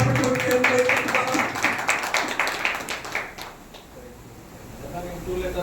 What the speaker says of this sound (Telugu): అందరూ ఒకసారి చప్పట్లు కొట్టి దేవుని వైపు